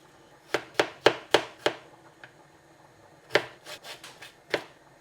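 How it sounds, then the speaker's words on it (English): A knife finely chopping an inch-long piece of ginger on a board gives a quick run of five crisp, close taps, a pause, then another looser cluster of chops. "I'm going to get like a good piece of ginger, an inch roughly, and just gonna chop it into small, like just finely chop it"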